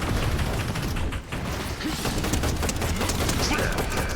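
Rapid automatic gunfire from a machine gun in Fortnite, shown as dense, continuous bursts of loud shots with clattering mechanical texture throughout, with no clear speech.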